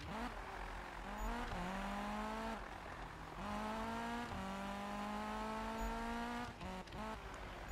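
A Volvo 242 in the Need for Speed (2015) racing game, engine revving up through gears in repeated rising sweeps with brief drops between shifts, loud and continuous with some scraping tire noise.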